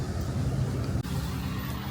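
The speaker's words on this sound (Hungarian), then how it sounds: "Micsoda busz!" A bus on a city street, its engine a steady close drone that dips briefly at one point and then continues at the same level.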